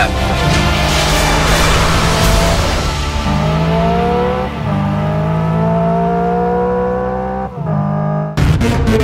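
Hyundai IONIQ 5 N electric car driving a lap, a loud continuous drivetrain whine with rising and falling tones as it accelerates and shifts, close and steady, with a brief cut near the end.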